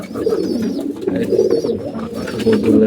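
Domestic pigeons in a breeding loft coo steadily in low, rolling throaty bursts, close by and clear, with faint chirps above.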